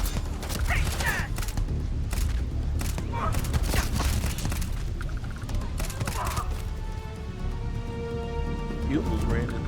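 Bursts of gunfire crack repeatedly in the sci-fi RPG Gate to Stars, with dense clusters of sharp shots up front that thin out later, heard under talking voices.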